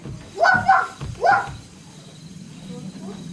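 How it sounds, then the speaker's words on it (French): A big dog lets out a couple of gruff, rumbling vocalizations up close, then low noise lingers afterward. "il entend le grognement d'une bête. C'est un gros chien, très méchant"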